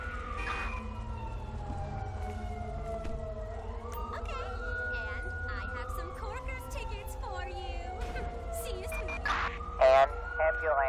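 A video game ambulance siren wails, rising and falling continuously over a low engine drone, with scattered clicks and faint chatter in the background.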